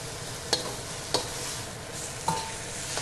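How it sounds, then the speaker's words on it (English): Turkey sizzles steadily in a hot wok as it is pressed down, with a few sharp scrape-and-tap accents from a utensil breaking the constant fry hiss. "Just going to wait for that turkey to come to a full cook. Press it down in your wok."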